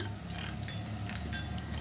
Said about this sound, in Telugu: సాంబార్కి పోపు కూడా పెట్టేసుకున్నాను